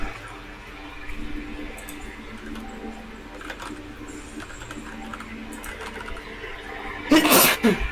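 A single sharp sneeze bursts out near the end, loud and close, after several seconds of quiet room noise and faint background sounds.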